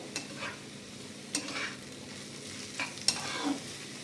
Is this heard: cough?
no